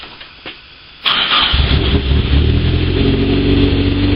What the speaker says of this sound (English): Yep, that engine is running quite happily.